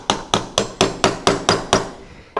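Eight sharp, evenly spaced hammer blows driving nails into a wooden birdhouse, close and loud, each strike ringing briefly before the next in a steady rhythm.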